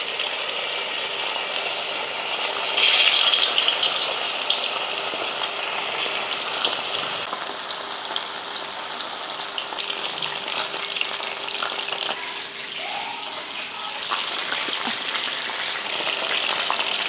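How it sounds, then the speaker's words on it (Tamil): Chicken lollipops deep frying in hot oil, a loud, steady, dense crackling sizzle that runs unbroken throughout, close up, with no voices. "அதுக்கப்புறமா எடுத்து பொரிச்சுக்கலாம்"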